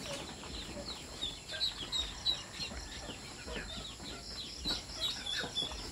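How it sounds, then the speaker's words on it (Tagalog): Chickens cluck softly on a poultry farm raising ducklings, with short repeated calls and a few higher chirps scattered across several seconds, faint and somewhat distant over quiet background noise. "Manok."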